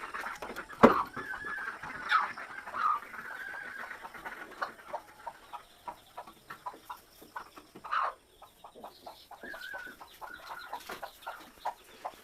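Chickens and ducks in a village yard in the morning: scattered clucks and calls near and far, with one loud squawk early and intermittent shuffling, fairly faint overall.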